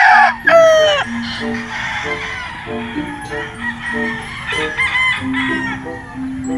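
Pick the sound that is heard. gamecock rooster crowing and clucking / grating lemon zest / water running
gamecock rooster crowing and clucking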